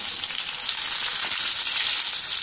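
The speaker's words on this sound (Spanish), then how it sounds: "Como la piña no necesita cocinarse mucho, nada más vamos a dorar todo nuestro pan que tenemos aquí." Breaded pineapple browns in hot frying oil, a loud, continuous hissing sizzle heard up close without pause.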